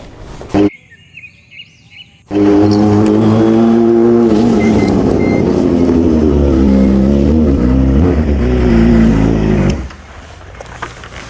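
A car engine starts revving and the car drives off, a loud, close, steady roar that holds for about seven seconds before cutting off. Faint bird chirps come just before it.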